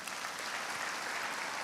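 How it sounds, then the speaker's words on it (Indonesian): A church congregation applauding, sustained crowd clapping that stays even and dense across the whole moment with no voices standing out. "Tepuk tangan untuk Yesus."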